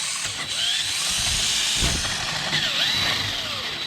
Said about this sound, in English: you'll need an 18-inch drill bit to get through all of that